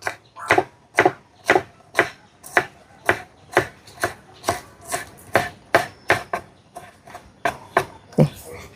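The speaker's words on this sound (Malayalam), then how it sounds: "ചള്ളാണെങ്കിൽ പെട്ടെന്ന് തന്നെ അരിഞ്ഞെടുക്കാം കേട്ടോ" A knife chops nithya vazhuthana, a tender vegetable, on a board with about seventeen crisp, evenly spaced cuts, each close and distinct, in a steady rhythm with no talking.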